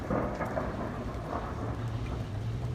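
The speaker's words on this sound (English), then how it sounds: "Give us thunder. Almighty thunder." Conjured thunderstorm with a steady wash of rain and low rumbling thunder, a continuous moderately loud roar with a deeper rumble swelling toward the end.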